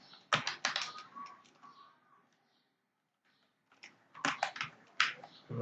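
Quick bursts of clicking keystrokes on a computer keyboard, close and crisp, stop for about two seconds of near silence, then resume in another rapid flurry.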